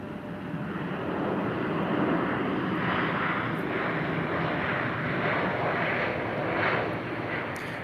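An Air Canada jet airliner passes at a winter airport, a broad steady engine roar holding level throughout without fading, heard from a spotting position with no talk.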